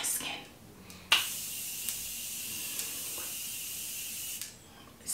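Morphe Continuous Setting spray hisses from a bottle onto a face in a long, steady, close burst lasting several seconds, with a brief short spritz just before it.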